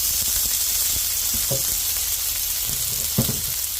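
Sardine fat melting in a hot pan with no added oil, giving a steady loud sizzle and hiss with a couple of brief stirring knocks, no voices.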